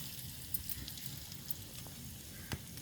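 Small potato cheese donuts coated in breadcrumbs frying in hot oil, a quiet, steady sizzle and crackle with a few faint pops, heard alone.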